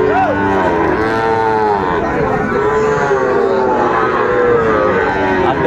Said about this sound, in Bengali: ছোট ছোট ষাঁড় বাচ্চা